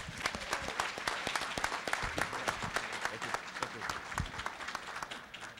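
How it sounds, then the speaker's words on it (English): Audience at a community meeting on elder financial exploitation applauding steadily, a dense crackle of many hands that holds at even loudness throughout, with faint voices beneath. "Let's give him a big round of applause."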